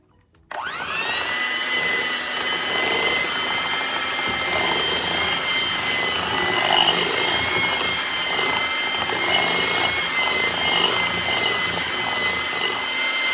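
An electric mixer blends powdered sugar into cupcake frosting, starting abruptly and then running in a steady, loud whine with a slight tonal hum and no talking.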